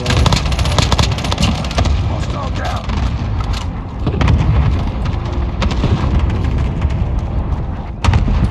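An airstrike of cluster munitions lands in a military shooter video game, a sustained rumble of dense explosions and gunfire filling the whole stretch, with a fresh burst near the end and radio-style voices talking over it.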